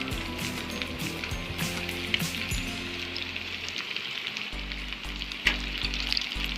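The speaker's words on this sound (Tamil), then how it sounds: "ஒவ்வொன்றா போட்டுட்டு நல்லா பொன்னிறமாக வறுத்த வரைக்கும் நம்ம பொரிச்சு எடுத்துக்கலாம்." Egg kola urundai balls deep frying in hot oil, a continuous bubbling sizzle with crackling pops, fairly close and alone, over a low steady hum.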